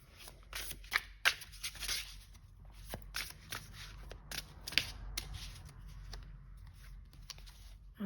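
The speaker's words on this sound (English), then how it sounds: "Let's shuffle this one a bit." Card deck being shuffled at a tabletop, with soft riffling and shuffling bursts, a few sharper snaps, and light handling noises throughout, faint and close with no talking.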